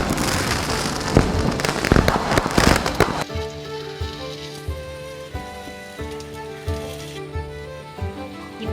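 Chicken leg pieces fry in an LG charcoal microwave oven: dense, loud crackling and spitting fill the first three seconds, then give way to a steady appliance hum with faint, scattered pops.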